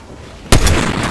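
A single sharp gunshot bursts out loud and close in the Fortnite video game, followed by a short trailing echo and rumble.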